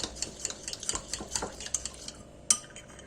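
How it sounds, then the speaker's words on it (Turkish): A spoon stirs an olive oil and black pepper salad dressing in a bowl, giving rapid close clinks and light scrapes in an even rhythm, with one sharper clink near the end. "Şimdi sosu güzelce karıştırıyorum."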